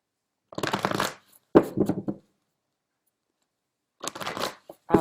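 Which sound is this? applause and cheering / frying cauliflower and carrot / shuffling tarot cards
shuffling tarot cards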